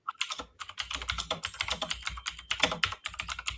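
Rapid typing on a computer keyboard, a dense, close clatter of keystrokes with brief pauses and no voices.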